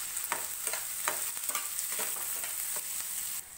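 Salted onions frying in a pan until golden brown, a soft continuous sizzle broken by a regular series of spatula strokes, fairly quiet and without speech.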